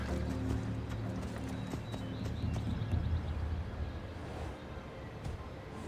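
Horse hooves clip-clop steadily on the ground in the video game Assassin's Creed Odyssey, a close, continuous rhythmic trotting with faint background ambience.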